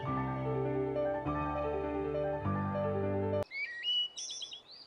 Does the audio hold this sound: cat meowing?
no